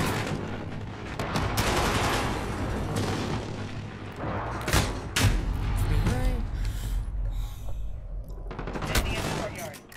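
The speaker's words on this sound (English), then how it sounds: "they're shooting from the warehouse" Dense video-game gunfire echoes from a warehouse during a Domination match on the Vacant map: bursts of rapid shots and sharp cracks with some heavier booms, while a player talks over the noise.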